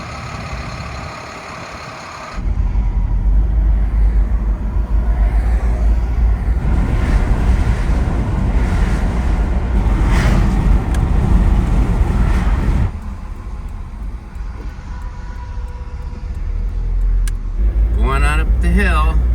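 A flatbed tow truck hauls a 1931 Ford Model A pickup uphill, its engine a steady, loud low rumble with road noise and rattling over bumps, and someone talks over it.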